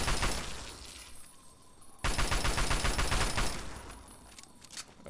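Bursts of gunfire in Fallout 3 aimed at rad scorpions, loud rapid shots in two clusters with a brief lull between, no talking.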